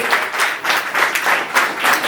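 Close, loud clapping at a retirement celebration, a steady round of applause from a gathered audience with rhythmic surges.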